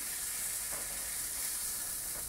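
Steak sears with no added fat in an AGA cast aluminium pan, giving a steady, even sizzling hiss, and a silicone spatula briefly scrapes and turns the meat twice.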